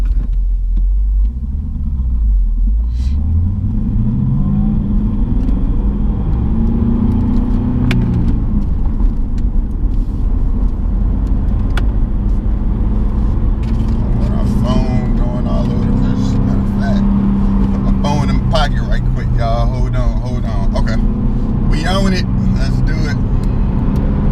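A second-generation Cadillac CTS-V on 265 front and 295 rear tires makes a practice launch run to warm the tires. Its loud, steady engine rumble rises and falls in pitch as revs climb, while a voice talks over it.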